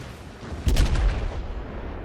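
Heavy naval guns fire in the World of Warships game, the Yamato battleship in the fight, one loud booming salvo rolling out over a low rumbling background.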